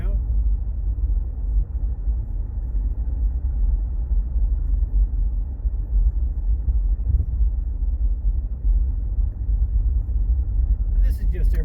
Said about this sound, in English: I'm going to drive like Miss Daisy right now.